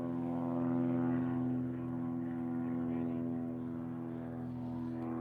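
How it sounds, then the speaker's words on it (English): Two propeller planes drone overhead outdoors near a golf course, a steady, loud engine hum with strong tonal layers holding throughout and shifting slightly as they pass. "there's literally a plane going by. There's two planes."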